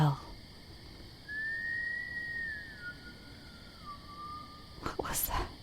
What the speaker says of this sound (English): Did you just hear someone